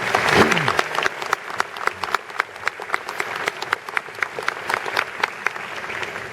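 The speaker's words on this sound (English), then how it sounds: "definitely a round of applause" A large audience at an Air Force commencement ceremony applauds steadily, many hands clapping in a dense, lively wash with distinct sharp claps standing out. A voice is briefly heard near the start.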